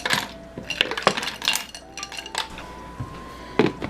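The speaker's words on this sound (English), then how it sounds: "I'm going to throw some ice cubes in this drink." Ice cubes clatter and clink into a glass or blender jar for a homemade detox drink, several sharp hard knocks and rattles at close range, with no voices.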